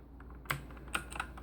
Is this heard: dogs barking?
no